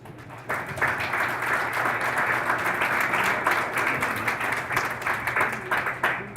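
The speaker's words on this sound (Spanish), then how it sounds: "para los cuales solicito un fuerte aplauso" A conference audience at a sustainable construction and energy efficiency symposium in Mexico applauds the inaugural panel: a sustained, even wash of many hands clapping, moderately loud and continuous for several seconds.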